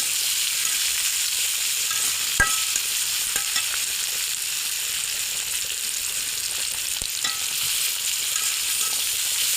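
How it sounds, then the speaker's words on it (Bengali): Steady, close sizzling of onions frying in hot oil, with a few faint clicks of a utensil against the pan. "পেঁয়াজটা ভাজা হয়।"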